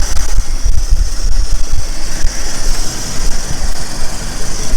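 The engine of a 1963 Ford Falcon Futura running close by, a loud, rough, throbbing idle with heavy low rumble and a steady hiss of blow-by, holding constant throughout.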